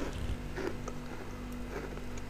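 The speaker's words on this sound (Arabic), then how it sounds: "تعالي بس ورينا صوت القرمشه" A biscuit crunches in a few crisp, brittle snaps and crackles, close and fairly quiet, with no voices.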